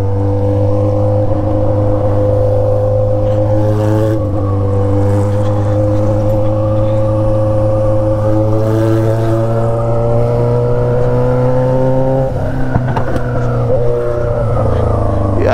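A Yamaha XJ6 motorcycle with an Atalla straight-pipe 304 stainless steel exhaust drones loudly and continuously, its pitch sliding up and down as the revs change, with a rougher burst near the end.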